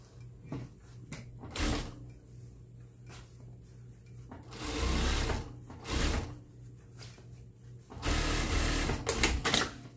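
A sewing machine closes the turning hole in the sleeve lining of a Burberry trench coat, heard as three bursts of whirring stitching with pauses of handling noise between them, close and fairly loud.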